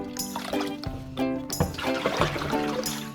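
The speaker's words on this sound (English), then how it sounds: "I tear it into small pieces and rinse it gently a few times" Torn kale pieces rinsed gently in water, with running and splashing water close by along with a few knocks and clatters, and background music running throughout.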